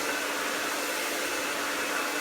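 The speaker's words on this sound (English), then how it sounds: "but now we're just doing it with a blow dryer." A handheld blow dryer runs steadily at close range while drying hair, a continuous broadband whoosh with no pauses and no voices.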